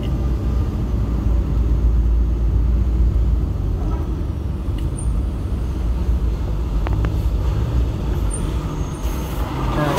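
A large trailer truck rumbles past on a mountain road climbing Mt. Rosser toward Moneague, Jamaica, a loud, steady low roar from inside a moving vehicle, with brief higher engine and air-brake sounds mixed in.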